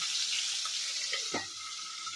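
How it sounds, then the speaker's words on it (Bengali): American rui fish fries in a pan with a steady, close sizzling hiss throughout, broken by one brief soft knock partway through. "এই যে সেটাকে আমি মাছটা ভাজতে দিয়ে দিয়েছি"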